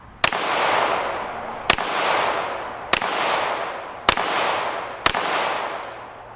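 Five loud, sharp reports from a Canik TTI Combat pistol fired at a range, spaced about a second apart, each cracking sharply and leaving a long, wide echo trailing behind before the next shot.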